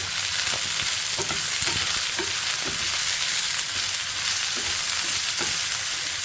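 Brinjal pieces fry in a pan with a constant close sizzle, while a spoon stirs them in repeated scraping strokes at an uneven rhythm.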